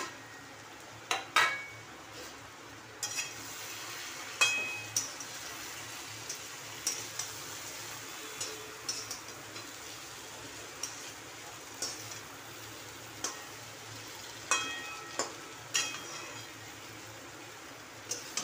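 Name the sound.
ground masala paste frying with garlic tempering, tomato and onion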